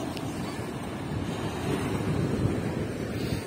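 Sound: sea waves on a beach in Odesa

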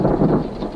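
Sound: thunderstorm breaking over the Kalahari

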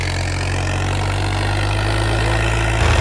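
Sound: tractor engine running with 9-foot rotavator

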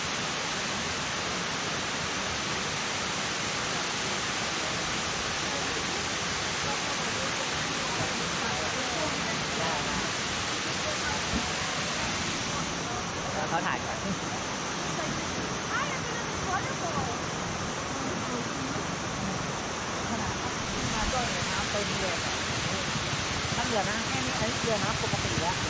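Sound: Kuang Si waterfall in Laos

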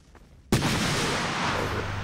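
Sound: grenade explosions in the video game Empires (Source mod)

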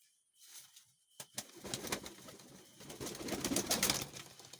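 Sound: pigeon being released

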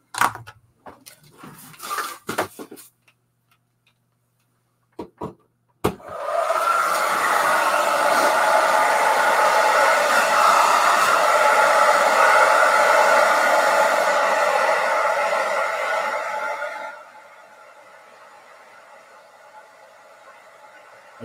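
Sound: air dryer drying a watercolor painting

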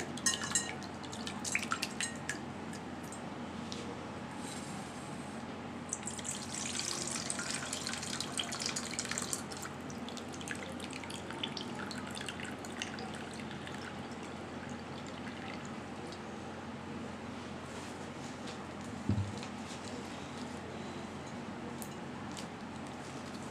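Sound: washing soaked flattened rice (chira) in water

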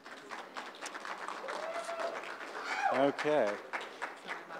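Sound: audience applause

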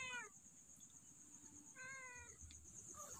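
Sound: cat meowing

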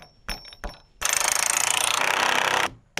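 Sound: driving big 3/4 inch bolts through wood

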